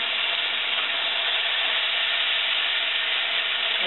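Food sizzles in a pan on a stove burner that heats unevenly, giving a dense, even hiss that holds steady and close throughout.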